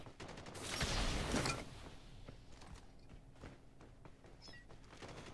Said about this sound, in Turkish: Az önce bir yerden silah sesleri geldi.